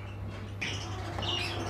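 A pair of Giribaz pigeons give two short, soft calls over a low, steady hum, faint and close by.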